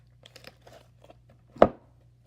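Slime is kneaded by hand after activator is added: soft, sparse sticky clicks and crinkles, then one sharper squelching pop near the end, close and quiet.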